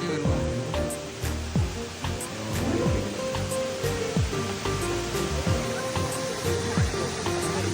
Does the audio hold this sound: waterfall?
yes